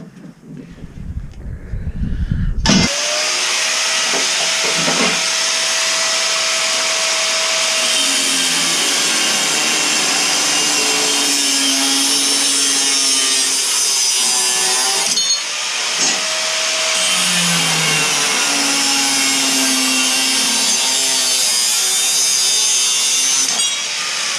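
A power tool cuts through metal for a lawnmower fuel tank mount, a steady, loud, harsh grinding and rasping that runs almost the whole time with only brief dips in pitch and force.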